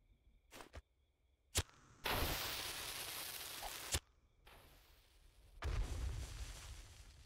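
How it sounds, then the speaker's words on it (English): Fireworks explode in a video game: sharp pops, then bursts of crackling hiss that fade away, with a loud boom and rumble near the end, all fairly faint and distant. "Fireworks!"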